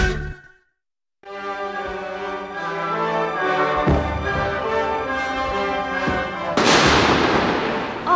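Fireworks thump and boom at the Sun Moon Lake fireworks and music festival in October, with a few heavy bursts over loud, steady tonal music that fills the whole scene.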